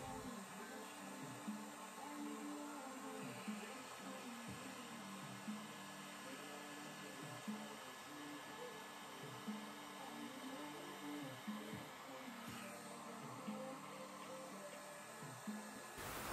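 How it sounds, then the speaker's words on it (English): Hair dryer blowing on a wig cap, a steady, faint whooshing drone with a constant high whine, running without a break and heard alone from a slight distance. "Here I am blow drying my cap again because it still wasn't dry."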